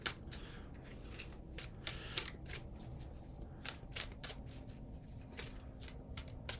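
Tarot cards are shuffled repeatedly in quick riffling bursts, close and fairly quiet, with no talking.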